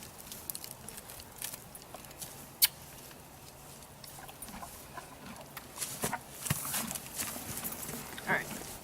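A horse at a cowboy camp shifts about while being caught, with soft scattered hoof thuds and one sharp knock on dirt, faint and distant amid outdoor background noise.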